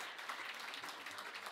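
Ceremony audience applause at an opening ceremony, a faint, distant, even patter of clapping held for a brief moment.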